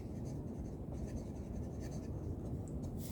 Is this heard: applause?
no